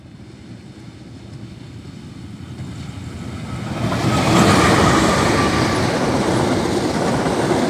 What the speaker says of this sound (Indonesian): ini dia kereta api Mutiara Selatan sudah melintas stasiun Haur Pugur